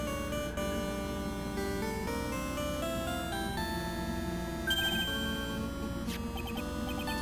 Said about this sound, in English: Oh man, the ringtone!